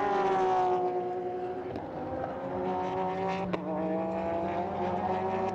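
Race cars at Silverstone, among them Callaway cars and a Ford GT, roaring past in a pack, a loud sustained engine drone with shifting pitches and brief sharper passes, steady and close without any talk.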